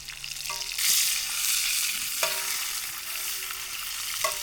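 Trout fillets fry in a pan with a steady, bright sizzle that swells louder partway through, broken by a few faint clinks, with no voices.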